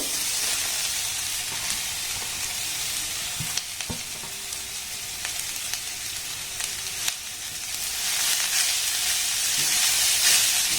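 A grated potato, carrot and bean mixture fries and sizzles in a pan over low gas, a steady bright hiss with occasional stirring scrapes and taps, swelling louder toward the end.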